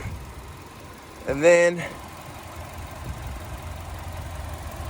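A 2020 Chevy Spark LT's 1.4-liter Ecotec four-cylinder engine idles steadily under an open hood, a low even hum broken briefly by a man's spoken words.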